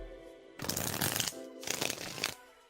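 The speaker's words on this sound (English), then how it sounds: "Shuffling for Terry now." Tarot cards being shuffled in two close, crisp riffling bursts, each lasting under a second, with no voices.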